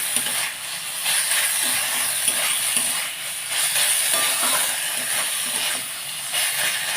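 Crumbled paneer fries in oil in a pan over a high gas flame, giving a loud, continuous hissing sizzle that surges and eases in waves, close by and without talk.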